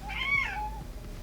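A single drawn-out cat meow, close and fairly soft, rises and then falls away over about a second against a quiet background with no talking.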